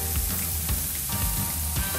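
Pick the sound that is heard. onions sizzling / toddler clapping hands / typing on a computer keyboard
onions sizzling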